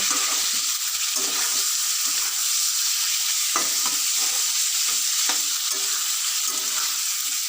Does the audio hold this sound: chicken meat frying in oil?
yes